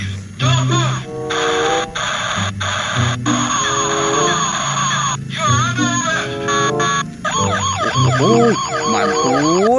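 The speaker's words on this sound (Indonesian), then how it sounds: "ini mobil polisi patrol" A toy police patrol car plays a loud, continuous electronic siren with wavering wails and melodic chimes, close up and alone for nearly ten seconds.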